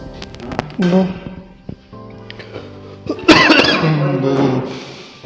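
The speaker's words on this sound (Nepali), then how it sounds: "खोकी चल्दिँदैछ" A person coughs several times close by, with short bursts breaking up moments of quiet and some nearby movement.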